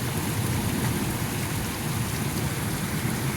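Steady, dense rain pours down during a hailstorm in Cardston, Alberta, a continuous close roar of drops hitting surfaces with no gaps.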